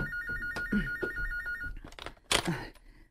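A telephone rings with a repeated electronic trill, moderately loud and close, then breaks off as handling noises and a short sound follow.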